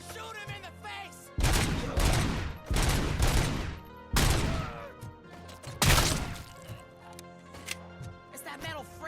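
Gunfire in the Robocop video game comes in several loud broadband bursts of about a second each, separated by short gaps, with voices talking between them.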